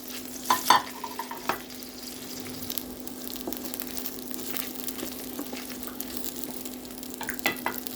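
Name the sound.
fried chicken stirred and sizzling in a pan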